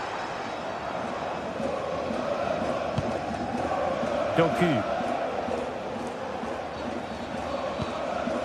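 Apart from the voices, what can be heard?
football crowd in a video game stadium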